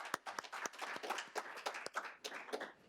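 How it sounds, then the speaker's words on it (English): Audience applause for a panel of speakers at a conference session on protecting water in armed conflicts: a short burst of scattered, fairly faint hand clapping from a modest crowd, with no voices over it. "I want to just give one last round of applause to all of our panelists."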